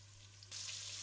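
Beef browning in a pan for Hungarian paprika beef goulash gives a steady close sizzle that jumps louder halfway through, with a low hum underneath and no talking.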